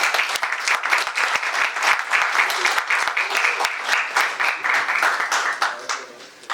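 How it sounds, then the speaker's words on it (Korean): Audience applauding at a tooling program completion ceremony, a dense, steady clapping that holds strong and close throughout with a few sharper individual claps standing out. "Please have her with a big applause."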